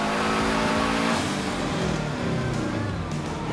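Subaru Forester engine on a dyno for a baseline run, revving hard and climbing in pitch through the run, loud and close with no talk over it.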